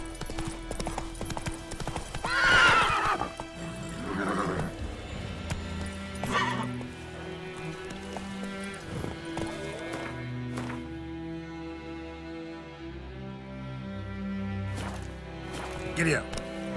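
Roach the horse in The Witcher 3 gallops with close, rhythmic clip-clop hoofbeats and lets out a neigh, over game music and sound effects, with someone speaking briefly.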